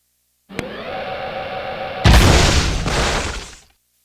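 The Peacemaker, a Dark Eco gun in Jak II, charges with a sustained humming whine and then releases a loud, crackling blast that roars and fades over about a second and a half.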